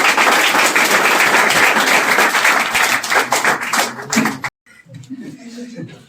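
Students at a Class 10 farewell ceremony clap loudly together for a few seconds, the applause tapering into scattered claps and brief talk.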